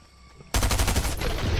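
Gunfire in the video game Fortnite, a sudden loud burst of rapid automatic shots that starts abruptly and keeps rattling to the end, with no talk over it.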